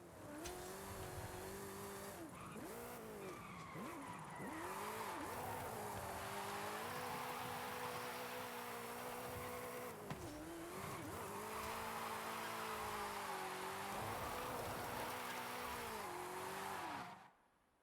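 A car drifts in the Forza Horizon 5 racing game, engine revving and bouncing off the limiter while tires squeal continuously in long slides, a loud, sustained game soundtrack with no voices.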